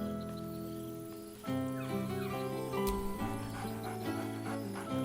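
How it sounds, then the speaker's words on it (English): A dog in the video game Baldur's Gate 3 gives a drawn-out whine, then a run of barks mixed with busy game sounds and tonal background music. "Scratch barks merrily in something like agreement."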